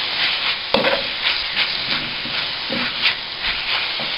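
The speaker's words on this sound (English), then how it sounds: "I'm adding that much turmeric into the kadai, and you can see the color changing immediately" Turmeric is stirred into hot oil in a kadai, giving a steady sizzle and fry hiss broken by several sharp scraping stirs of the utensil against the pan.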